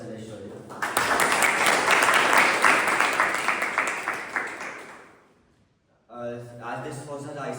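A round of applause for a Toastmaster at a club meeting, many hands clapping loudly for about four seconds before fading out, then a voice begins speaking.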